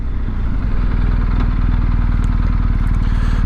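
A 2022 BMW R1250GSA adventure motorcycle engine runs steadily and loud while riding, a close, continuous low throb with a rapid firing pulse and some rushing wind noise throughout.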